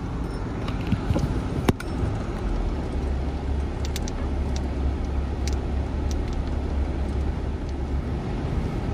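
A car coasts slowly downhill on a steep, unguarded mountain road beside a cliff, with the clutch and brake released and the air conditioning on low. It gives a steady, close low rumble of road and engine with a few faint ticks and no speech.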